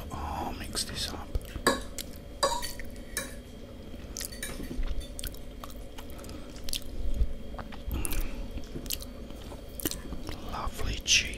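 Extra saucy fettuccine alfredo is eaten close to the microphone: wet, squishy chewing and soft bites with occasional cutlery clicks, while a voice whispers quietly throughout.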